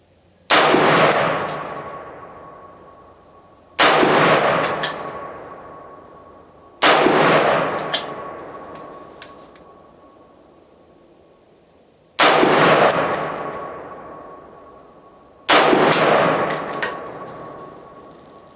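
Rifle shots from a side-charging AR upper firing Chilean 62 grain ammunition, five loud single cracks spaced a few seconds apart, each ringing with a metallic ping and a decaying echo, with no talking.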